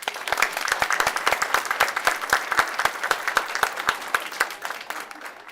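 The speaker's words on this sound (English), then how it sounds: "if we can give one more round of applause" Applause at a school board meeting, a small room of people clapping steadily for about five seconds, with sharp individual claps standing out and the sound thinning toward the end.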